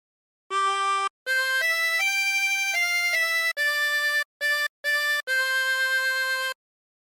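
Tremolo harmonica with 24 holes playing a phrase of Waltzing Matilda, sustained reedy chords in a series of separate breaths, close and clear with no talking.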